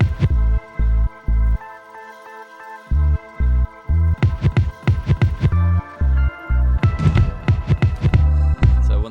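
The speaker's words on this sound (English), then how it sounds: "So in the very intro, it's the only time we hear these tom fills." Logic's default drum kit plays rack tom and floor tom fills: punchy, booming hits in quick rhythmic bursts, some clustered in rapid rolls, loud and upfront with short gaps between phrases.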